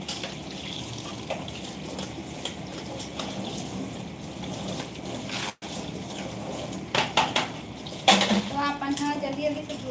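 Dishes and utensils clatter and clink during washing, with running water gushing throughout, scattered sharp metallic chinks, and a brief voice near the end.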